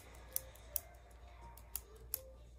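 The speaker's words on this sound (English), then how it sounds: "So this is my mechanical pencil I got." A green mechanical pencil clicks four times at an uneven pace in a quiet room, each sharp tick brief and close.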